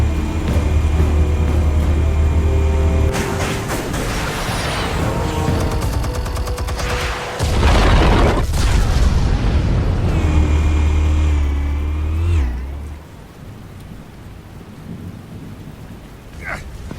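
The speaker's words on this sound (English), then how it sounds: "Explosives armed. Fire when ready." Explosives detonate in Batman: The Telltale Series as a loud, sustained roar of rumbling blasts and crackling debris that stops abruptly about twelve seconds in, leaving a quiet hum.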